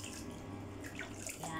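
Faint running shower water spraying while a two-month-old Chihuahua puppy is bathed for the first time, a soft continuous hiss of water close by.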